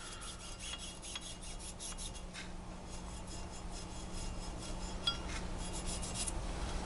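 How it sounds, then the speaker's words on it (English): A nylon brush scrubs a rifle bolt carrier and piston operating rod with solvent, giving quiet, close, irregular scratchy rubbing strokes that grow a little busier toward the end. "Take your nylon brush and scrub all surface contact areas on the carrier itself"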